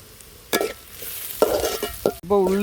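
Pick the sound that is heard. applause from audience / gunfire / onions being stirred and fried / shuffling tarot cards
onions being stirred and fried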